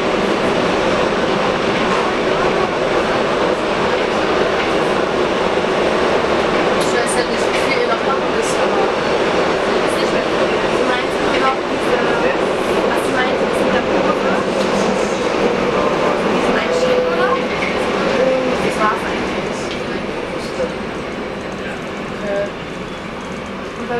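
A Berlin U-Bahn subway train heading to Osloer Straße runs underground with a loud, continuous rumble, clickety-clack wheel beats and occasional squeals. Faint voices sit under the noise, which eases off near the end.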